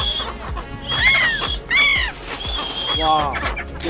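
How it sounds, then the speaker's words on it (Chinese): Seagulls at Lugu Lake, drawn in by a tour guide, give high, sharp calls in short bursts, fairly close, mixed with people talking nearby. "而家导游咧帮我引啲海鸥埋嚟啦"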